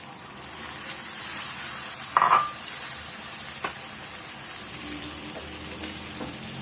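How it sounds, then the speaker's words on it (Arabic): Meat frying in oil in a pan for a Moroccan mallow tagine, a loud steady sizzle with a sharper burst of crackling partway through and faint utensil taps, no voices. "غادي نخليه حتى يتقلى مزيان"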